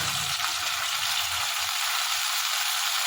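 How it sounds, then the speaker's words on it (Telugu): Mutton hitting a pan of fried onions in a home mutton curry gives a steady, close, soft sizzle that stays even throughout, with no talking. "ఆ తర్వాత నీట్గా శుభ్రంగా కడిగి పెట్టుకున్న మటన్ దీంట్లో వేసుకున్నాం."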